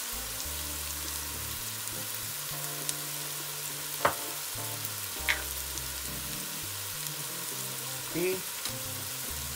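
Vegetables toasting in a hot pan sizzle steadily, with a couple of sharp clinks of a utensil against the pan and a brief voice near the end.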